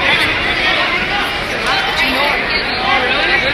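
Dense, steady crowd chatter fills a packed arena at a full-house wrestling event, a continuous babble of many voices close and loud with no single talker standing out.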